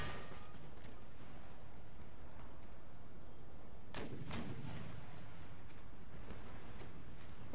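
Artillery fire in a Little Bighorn battle game, with two deep booming blasts in quick succession over a low, continuous rumble of distant battle noise.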